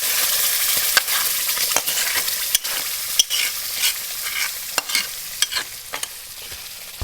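Red beetroot gravy goes into a pan for a cashew curry and is stirred, with a constant sizzle under repeated sharp spoon scrapes and clinks against the pan; no voices.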